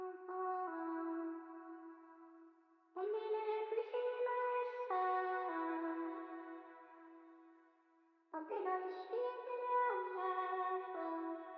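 Second section of freestyled, auto-tuned vocals for an R&B beat: three sung phrases with smooth, stepped pitch glides and held notes, close and clear with no accompaniment, a brief dip between phrases.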